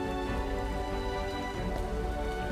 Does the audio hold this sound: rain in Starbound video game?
yes